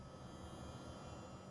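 Ambient airplane cockpit noise in the X-Plane 11 flight simulator, a steady low engine drone and hum, continuous and even.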